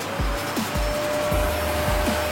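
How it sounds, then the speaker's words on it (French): A vacuum cleaner runs steadily nearby, a constant whining drone with low thumps as it is pushed back and forth. "Tu veux passer l'aspirateur?"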